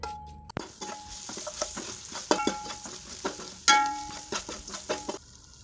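Chopped onions go into hot oil with spice powder for a Karnataka goat meat curry, giving a steady sizzle broken by repeated close stirring scrapes and clacks of a spoon against the pan.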